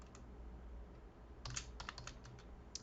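Soft, quiet clicking of a computer keyboard while coding, starting as faint taps and breaking into a quicker burst of distinct keystrokes in the second half, with no voice.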